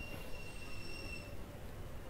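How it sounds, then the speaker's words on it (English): A train pulls in within the Garry's Mod game, its wheels squealing in sustained high metallic tones over a steady low rolling rumble; no talking. "Train's right here."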